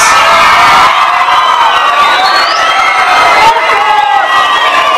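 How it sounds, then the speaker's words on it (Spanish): A crowd at a show ballet performance in San Mateo Otzacatipan cheers loudly, with shouts, whoops and high children's and girls' voices layered over clapping, rising and swelling throughout. "A ver, un aplauso para recibir a los hombres"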